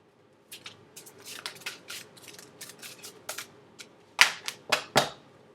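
Tarot cards shuffled by hand, with bursts of crisp riffling and flicking across the clip and a few louder, sharper snaps near the end. No voices are heard.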